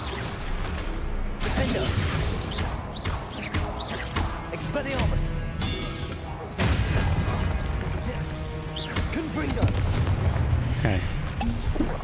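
In the Hogwarts Legacy video game, a Confringo explosive spell goes off as a booming blast with heavy rumbling impacts amid ongoing game noise, while a voice talks over the action.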